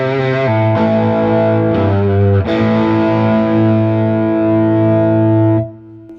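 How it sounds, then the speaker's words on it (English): A Harley Benton DC Jr electric guitar with a hot Lollar pickup plays through a Mad Professor Supreme Overdrive, giving loud, sustained, saturated chords with a few changes before ringing out and cutting off. "This is a Mad Professor Supreme Overdrive."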